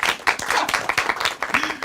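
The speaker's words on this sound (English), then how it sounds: "You can start clapping." An audience claps at a Smosh funeral roast, steady dense applause with a few brief voices mixed in.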